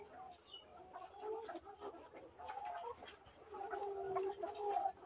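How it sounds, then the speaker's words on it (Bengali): Domestic chickens, likely layer hens, cluck and murmur in a steady, overlapping chorus, close by and moderately loud for about five seconds, without a pause. "আমাদের মুরগি"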